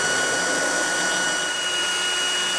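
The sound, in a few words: drill with diamond tile bit drilling a hole in a pot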